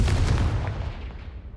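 Confringo fire spell blast in Hogwarts Legacy, a single booming burst that decays quickly over about a second.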